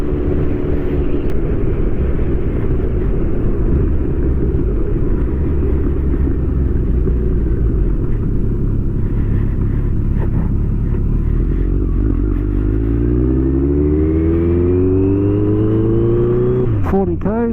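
A Kawasaki GTR1400 motorcycle fitted with a Delkevic full exhaust system accelerates hard, its loud engine drone climbing steadily through rising revs before a sharp surge near the end.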